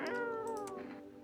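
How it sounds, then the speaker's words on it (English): A cat meows while being petted in a video game: a single drawn-out, falling meow, clear and fairly close, with no talking. "Let me pet my cat."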